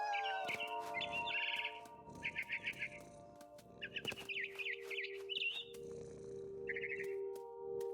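Bright barn swallow chirps in quick clustered bursts repeat over a layered electronic background with tonal hums and clicks, from the video game What Remains of Edith Finch.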